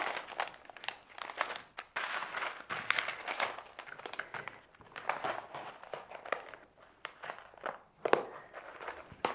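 Paper vegetable and flower seed packets are folded and pressed into storage boxes, producing close, continuous crinkling and rustling with irregular soft taps and shuffles.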